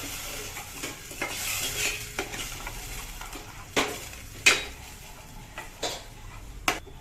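Browned paneer and yogurt paste stirred continuously in a pan over low flame. Quiet sizzling runs under soft scraping, with several sharp metallic clicks of a spoon against the pan spaced a second or so apart.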